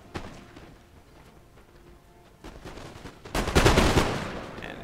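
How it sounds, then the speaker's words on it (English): Musket volleys crack out in a Napoleon: Total War battle between British and Prussian line infantry, with scattered distant shots building into a dense, loud burst of rolling gunfire toward the end. "This unit is shooting."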